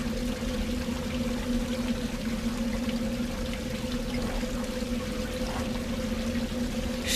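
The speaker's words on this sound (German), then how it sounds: "Das ist das Wasser von oben." In a video game, water trickles down from above in a steady, continuous splashing stream at moderate volume.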